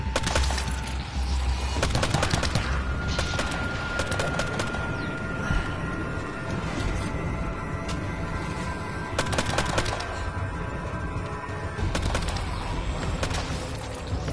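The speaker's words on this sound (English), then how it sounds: "It's still better to shoot this one bullet at a time because the targeting." Gunfire from a gun in How to Survive 2 rattles in repeated bursts and single sharp cracks over a dense, noisy game background, loud and close throughout.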